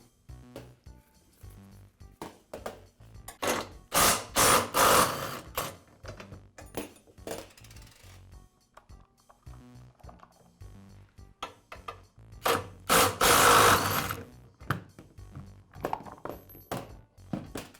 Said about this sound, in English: use a wrench and impact driver to remove the wheels